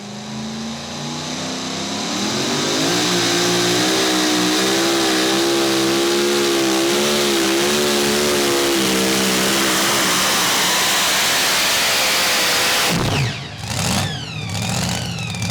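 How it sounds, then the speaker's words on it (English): A Chevrolet pulling tractor roars through a run at a Hillsboro tractor pull event, its engine loud and sustained with a rising, harmonic-rich drone that holds near full power for about ten seconds before easing off, with crowd noise toward the end. "Will Teasley out of Cedar Hill, Tennessee, driving the Apex Chevrolet."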